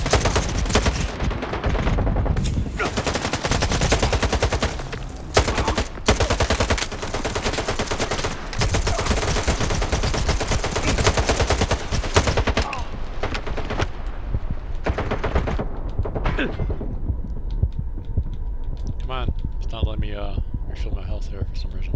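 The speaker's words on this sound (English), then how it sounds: "At least we'll get one gun battle, right?" Sustained gun battle in Stalker 2: Heart of Chornobyl, with dense automatic and single gunfire bursts crackling loudly and almost continuously for most of the stretch before thinning out near the end.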